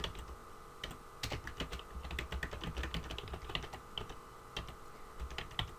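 Fingers tap on a computer keyboard in quick, irregular keystrokes with brief pauses, soft and close, with no one talking.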